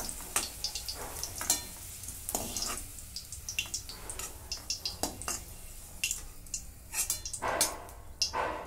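Potato pieces deep-fry in hot oil for a Marathi mixed vegetable bhaji, giving a continuous bubbling sizzle broken by sharp, irregular crackles and pops close by.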